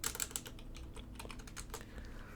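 Fingers type on a computer keyboard during work in a game editor, a quiet run of soft, quick key clicks in an uneven rhythm, close to the microphone.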